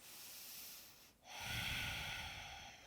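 Deep, close breathing during a yoga pose in a runners' flow: a hushed inhale, a brief pause, then a fuller, louder breath that carries to the end.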